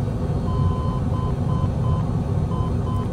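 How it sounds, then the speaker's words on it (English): Steady intermittent warning beeps from an aircraft in Microsoft Flight Simulator on Xbox Series X, repeating in a regular pattern over a loud continuous engine and wind drone. "What's this beeping sound?"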